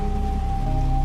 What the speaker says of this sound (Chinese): 下雨了， 雨一直在下。